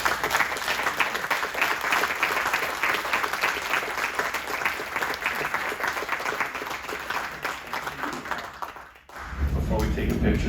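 At a city proclamation ceremony, an indoor audience claps steadily for the team for about nine seconds, sustained and fairly loud, before it tapers off and a low rumble takes over.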